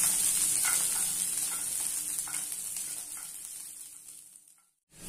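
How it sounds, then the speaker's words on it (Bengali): Cashews and raisins fry in ghee with a steady, bright sizzle and occasional soft stirring scrapes, close and continuous, fading out near the end. "কাজু কিশমিশটা একটু ভেজে নেব।"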